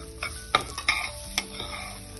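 Semolina and coconut being dry-roasted and stirred in a pan, a spatula scraping in a few sharp strokes over a soft steady hiss, close and moderately loud.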